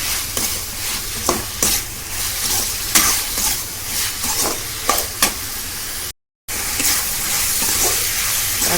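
Tomatoes sautéing with salt in a pan for a Tamil-style prawn gravy, a steady close sizzle broken by repeated scraping stir strokes, with a brief drop-out near the end and no talking.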